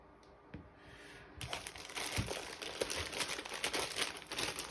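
Plastic wrap around a Dell KB216 keyboard crinkles and crackles up close during unboxing, starting softly and then turning into a steady, busy rustle with sharp crackling bursts.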